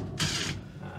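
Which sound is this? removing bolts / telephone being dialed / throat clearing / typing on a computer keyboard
removing bolts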